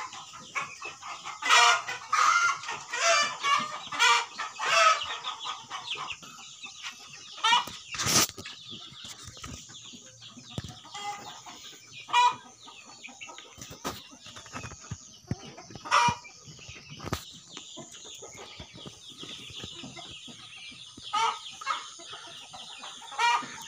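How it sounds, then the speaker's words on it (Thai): Black chickens on a farm cluck in scattered bursts, with roosters crowing now and then, some calls close and loud, others fainter in the background, over a quiet yard. "นี่ก็จะเป็นไก่ที่ใหญ่แล้ว"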